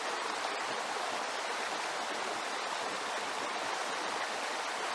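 A creek flows steadily over rocks on a trail, a continuous broadband rush of moving water that stays even and fairly close, with no talking.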